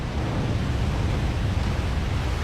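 Broad, steady roar of ocean waves and surf with wind noise, a dense continuous wash at close range and no voices.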